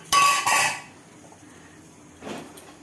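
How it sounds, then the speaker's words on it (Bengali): A metal lid comes off a pot of rice that has boiled over, giving a sharp clattering scrape up close, then a pause, then a softer clink as it is set down. "দাঁড়া ঢাকনাটা সরিয়ে দিই"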